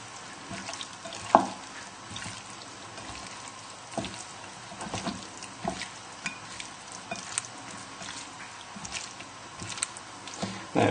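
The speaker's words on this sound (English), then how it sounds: "give it a good mix together with your hands, just to try and get sort of most of the bits of beef coated" Hands mixing thin beef strips in a rosemary marinade, wet squelching and stirring sounds with soft slaps, close and continuous at moderate loudness with occasional louder knocks.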